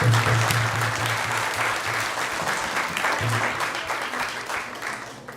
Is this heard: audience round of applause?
yes